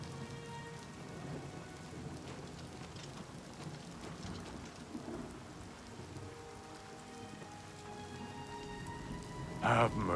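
Continuous rain patters on surfaces in the video game Oblivion Remastered, a dense steady hiss with faint distant thunder underneath, holding evenly throughout.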